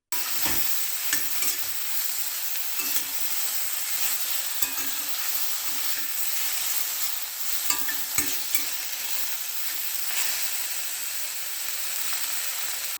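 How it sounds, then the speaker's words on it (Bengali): Brinjal frying over a very low flame in a pan, a steady soft sizzle with occasional scraping knocks of a spatula, continuous and close with no talking. "দিয়ে খুব ধিমে আঁচে বেগুনটা আমি ভেজে নিচ্ছি"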